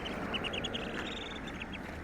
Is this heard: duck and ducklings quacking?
yes